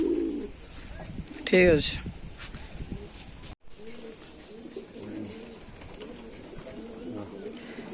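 Pigeons, including black-and-green capped Naptas and Kalojira Naptas, coo softly in a loft, a steady low warbling bed with a louder burst of calls early and a person briefly speaking.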